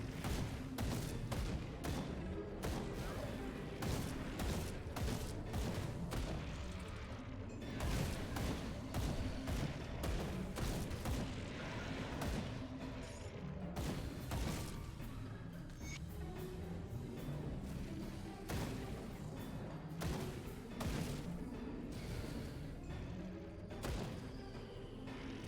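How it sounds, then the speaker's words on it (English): Shotgun blasts and chaotic combat in the action RPG Grim Dawn boom steadily and densely throughout, a loud, continuous barrage of thumping shots and impacts with no break. "Shotgun."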